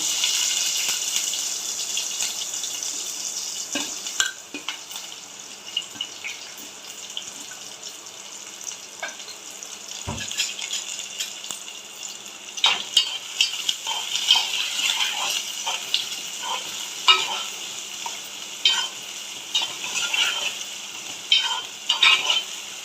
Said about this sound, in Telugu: ఆయిల్ అయితే వేడైంది ఇంక ఇందులోనే ఉల్లిపాయ ముక్కలు పచ్చిమిరపకాయ ముక్కలు వేసేస్తున్నాను